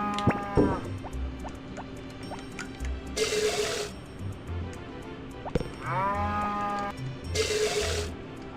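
Two drawn-out cow moos from Harvest Moon: Back to Nature, with bright harmonic tones, separated by bursts of splashing water and soft drips, over a quiet background.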